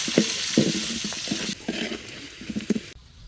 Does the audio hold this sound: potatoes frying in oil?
yes